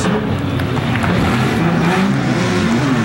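Race car engines from the 2010 World Challenge round at St. Petersburg fire up and rev together, a loud, dense, continuous roar of a full field with rising and falling pitches, no talking over it.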